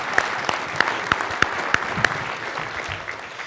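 A conference audience at an AWS re:Invent session claps, with a steady wash of applause. Several distinct loud claps ring out near the mic at regular intervals before they thin out.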